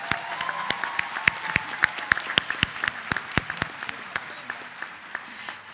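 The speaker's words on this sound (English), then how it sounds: "Let's give her another round of applause." Audience applause at a summer school graduation ceremony after a song performance, a dense steady patter of clapping with sharp individual claps standing out, moderately loud and sustained throughout.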